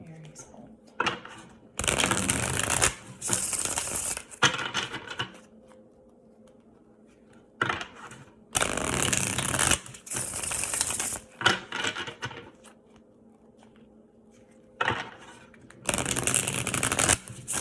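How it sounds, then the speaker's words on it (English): Several bursts of tarot cards being riffled and shuffled, each a loud rapid flutter lasting a second or two, separated by quiet pauses with faint talking. "when it comes to shuffling the deck and things like that"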